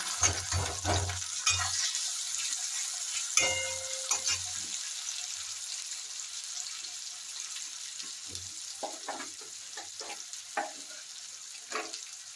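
Onions sizzle and hiss in hot oil for a jackfruit curry, with a few scraping stirs and clinks early on and a steady frying crackle that fades slightly as it goes on.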